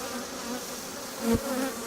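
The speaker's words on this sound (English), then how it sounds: "how many bees are out working?" A dense, steady buzzing of many honey bees close by at their hive, droning continuously with a slight swell near the end.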